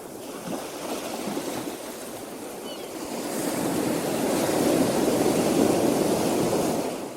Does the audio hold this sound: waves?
yes